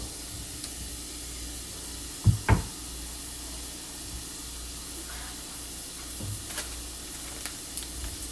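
Vodka pasta sauce, made without vodka, cooking in a pan gives a faint, steady sizzle and hiss, broken by a couple of soft clunks from the pan or utensils and a few light ticks.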